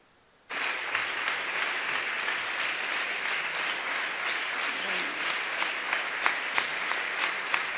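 Sustained audience applause at a celebration of children's and young adult literature, starting abruptly and holding steady as a dense crowd clapping with a few sharper individual claps standing out.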